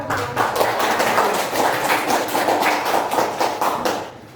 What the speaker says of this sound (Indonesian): Kasih aplaus dulu ya